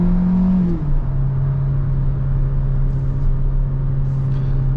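A 2022 Hyundai Venue SUV with an IVT transmission drives along, its engine holding a steady, loud drone after a brief dip in pitch near the start, with road rumble underneath and no talk.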